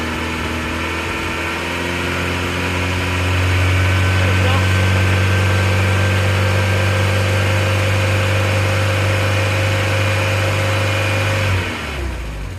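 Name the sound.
old Volkswagen engine running after revival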